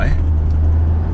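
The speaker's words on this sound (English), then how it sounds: "So here we are in the SL500, just driving it away from the dealer." Mercedes SL500 driving away from a dealership, heard from inside the cabin as a steady low engine and road hum that holds evenly throughout.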